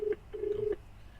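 An outgoing phone call rings through a Pioneer FH-X785BT car stereo's Bluetooth hands-free system, giving a few short electronic ring tones in a quiet car interior.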